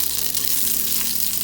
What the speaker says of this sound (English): The oil is hot. I'm adding the mustard.